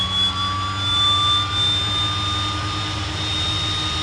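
A de Havilland Twin Otter's left engine spooling up in a flight simulator, a steady turbine whine with a rising tone layered over a low continuous rumble, heard loud and alone.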